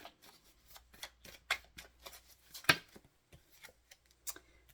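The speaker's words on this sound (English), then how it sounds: "now let's get the Soul Reflections Love Oracle cards" Oracle cards being handled and shuffled, with soft papery riffles and taps in scattered bursts, one sharper snap near the middle, fairly faint and close with no talking.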